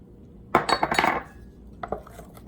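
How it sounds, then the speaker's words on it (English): Sugar stirred into blackberry clafoutis batter in a bowl, heard as a quick burst of clattering spoon-on-bowl clinks followed by a few lighter taps, close and clear with no talking. "now we're going to stir in the sugar"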